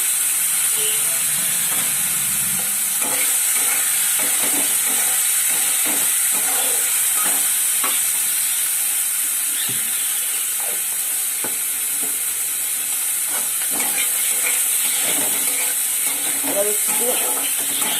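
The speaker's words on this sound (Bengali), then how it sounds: "নাড়াচাড়া দিয়ে দিয়ে দিলাম শাক" Chickpeas and taro greens with garlic and chillies frying in a pan, a steady loud sizzle and hiss running throughout with scattered scraping stir strokes mixed in.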